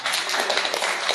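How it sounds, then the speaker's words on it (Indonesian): A church congregation applauds together in a brief, steady burst of dense clapping that holds at an even level from start to finish. "Tepuk tangan dulu dong."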